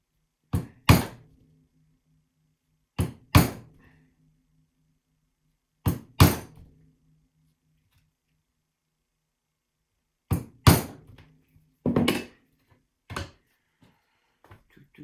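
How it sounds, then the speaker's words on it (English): Sharp metallic taps in small groups, two strikes at a time with pauses between, ringing briefly over silence, as a hammer drives a punch through leather. "So I punch these holes through"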